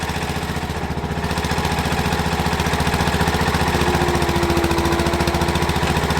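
A Case loader's tractor engine idles steadily close by, in forward gear, a loud, even mechanical throb with a rapid pulsing rhythm and no talking.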